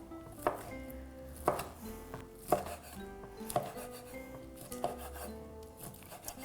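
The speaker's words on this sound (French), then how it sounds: "Puis après ça, je vais les couper de l'autre sens pour faire des mini cubes." Ham slices cut into small cubes with a knife on a board, a slow series of about six distinct chops spaced roughly a second apart, close and fairly quiet, with no talk.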